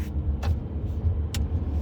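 A car drives in heavy traffic on the 55 freeway, a steady low road rumble and engine drone with a couple of brief airy whooshes from nearby vehicles.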